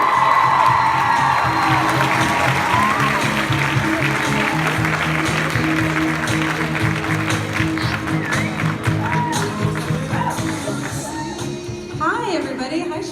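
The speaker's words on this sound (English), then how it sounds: "Please give a round of applause for Kara" A convention crowd at a Stranger Things fan event Q&A in Chicago applauds and cheers for an actress, with whoops and shouts mixed into sustained loud clapping and chatter that fades toward the end.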